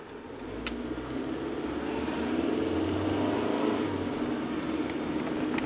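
A hydrogen-converted Ford Focus pulls away from a stop sign on a test drive, its engine building into a steady, continuous drone heard from inside the cabin, with no talk over it.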